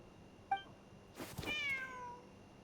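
A cat in the Genshin Impact game meows once with a short chirp, then gives a longer, louder drawn-out meow that fades out over a faint background hum.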